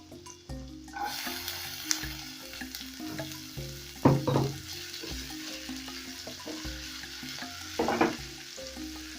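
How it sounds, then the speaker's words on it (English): Onions and ginger sautéing in hot oil, a steady close sizzle with clattering stirs and two louder bursts of scraping and spattering about four seconds apart. "So I'm going to saute this till the onions become translucent and also the ginger becomes fragrant."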